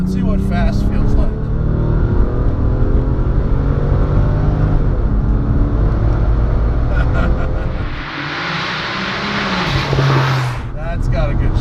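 A 760 whp Porsche 997 Turbo Tiptronic pulls hard, its loud engine note rising through the revs with a shift-like dip and a burst of intake and exhaust rush near the end, heard from inside the car.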